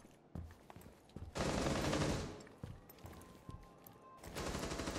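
Enemy gunfire in Rainbow Six Siege comes as scattered single shots, then a long, sustained automatic burst, and later another burst, moderately distant and without talk over it.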